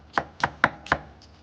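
A knife thinly slices a Japanese onion on a cutting board in four crisp, evenly spaced chops, close and clear with no talk, followed by a faint light tap.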